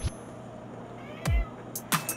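A cat meows in a kitchen, two or three short close cries spaced apart over a low steady background hum.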